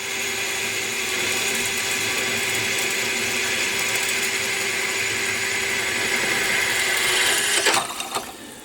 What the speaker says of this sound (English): Nice sharp Cobalt 10mm drill.